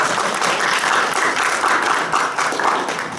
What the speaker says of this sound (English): Can we get an applause